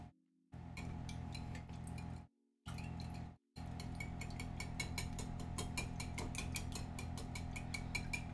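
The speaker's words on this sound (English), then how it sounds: "Again, you just kind of whisk this up." Eggs with onion and bacon are beaten for a frittata, giving a steady, close rattling and clinking of a whisk against the bowl that runs continuously with two brief pauses near the start.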